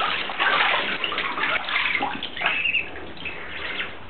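Pet ducks splash and paddle in a bath, giving a steady, close wash of sloshing water that runs the whole time with small fluctuations and no clear pauses.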